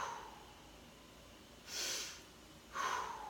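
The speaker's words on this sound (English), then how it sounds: "you're going to take about 5 deep breaths" Two deep, audible breaths taken close to the microphone during a calf trigger point massage, each a soft airy rush lasting about half a second, separated by a quiet pause.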